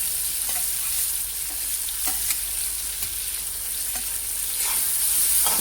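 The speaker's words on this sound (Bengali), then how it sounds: "দিয়ে নিয়ে পেঁয়াজগুলো ফ্রাই করব সুন্দর করে।" Onions fry in oil left over from frying eggs, making a steady, close hiss and sizzle with occasional crackles and stirring noises, and no voices.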